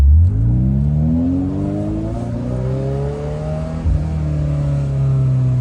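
A manual Ferrari 348 engine revving loudly from inside while driving, its pitch climbing through the gears with a shift partway through, then holding at a steady drone, with no voices.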